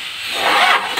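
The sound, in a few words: 4D56 engine cranking, failing to start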